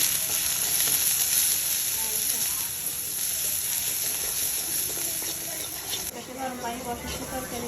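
Green chilli, turmeric and salt frying in hot oil on the stove for a koi fish and sponge gourd curry, a steady close sizzle and hiss throughout, with faint stirring and kitchen clatter near the end.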